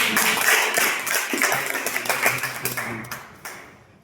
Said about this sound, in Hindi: आइए एक बार जोरदार ताली बजा दीजिएगा